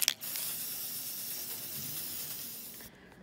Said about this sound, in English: I want to spray paint this as well